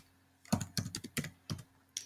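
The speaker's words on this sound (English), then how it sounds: "Let's type" Typing on a computer keyboard: a few quick, crisp key clicks in short irregular bursts, close but fairly quiet.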